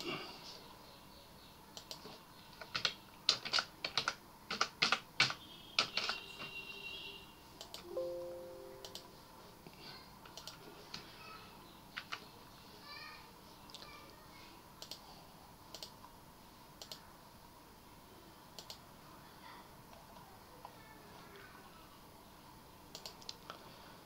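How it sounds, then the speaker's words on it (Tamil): Typing on a computer keyboard while entering and saving C++ and Python program code: dense bursts of quick, close key clicks for the first several seconds, then sparser scattered taps. "இதை நம்ம டைப் பண்ணிவிட்டு சேவ் பண்ணுறோம்."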